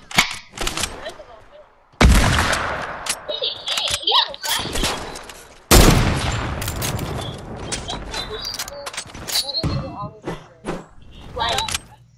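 Fortnite gunfire: two sharp, loud shots or bursts stand out, followed by rattling shots and game effects, while young voices chatter throughout.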